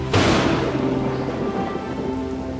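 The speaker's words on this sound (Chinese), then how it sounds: "真是一场好雨啊！" A heavy thunderclap bursts at the start over a steady downpour of rain, and the rumble fades into a continuous, dense patter that carries on to the end.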